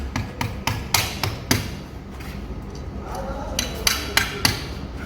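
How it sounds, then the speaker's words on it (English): A hammer drives screws in to mount a pen tray on a non-reflective board, a series of sharp, close metallic strikes in irregular bursts, with quieter work noise between them. "You can just hammer it in."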